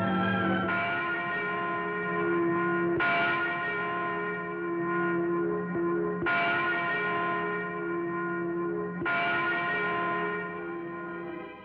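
Church bells ring out in a steady cycle, with a fresh strike about every three seconds. Each strike leaves a long, rich tone that hangs and overlaps with the next, loud and clear with no voices.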